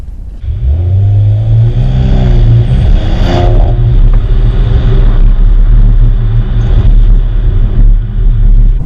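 A Porsche Panamera 4S with a V6 engine revs loudly and close, its deep rumble rising and falling through a couple of throttle blips before settling into a steady drone.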